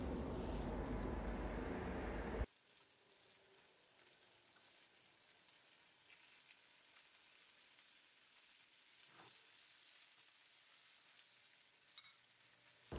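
Tomatoes seasoned with salt, thyme and red pepper flakes frying in a pan: a loud, steady sizzle for about two seconds, then it drops sharply to a faint, muffled hiss once the lid goes on.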